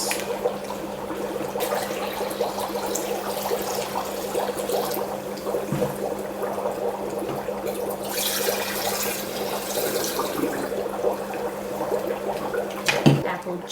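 Sixteen ounces of apple cider pours for Halloween cocktails, a continuous close liquid stream that runs for over ten seconds with small splashes.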